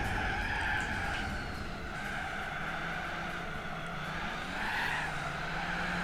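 A Lancia in Gran Turismo 4 slides with a slip angle, tires squealing continuously under a steady engine roar that swells and dips, close and loud throughout.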